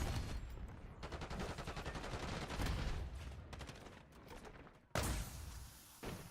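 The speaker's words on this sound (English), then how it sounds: "We're all firing at each other point blank and missing." Rapid gunfire from Call of Duty Black Ops online multiplayer, with players exchanging shots at point-blank range: dense, continuous bursts of shots fill the clip, with a brief gap before a loud burst resumes.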